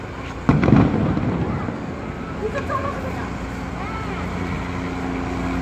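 Police tear gas shells fire with a sharp loud thump near the start, followed by echoing rumble and further distant pops, while people talk excitedly over the scene.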